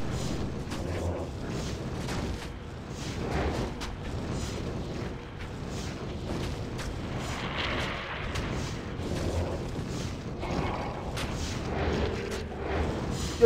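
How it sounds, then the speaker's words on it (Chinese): Necromancer's corpse explosion spell detonating repeatedly in Diablo II on Hell difficulty, a continuous rumble of overlapping booming blasts with gusty, rushing texture and no voices. "尸体爆炸！ 尸体爆炸！ 尸体爆炸！"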